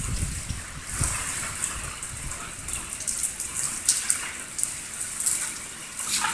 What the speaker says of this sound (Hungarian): Nem, csak nagyon nagy cseppekbe esik.